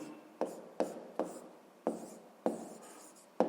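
A pen scratches across paper in short strokes, about seven quick scribbles with brief pauses between them, close and fairly quiet, with no voice.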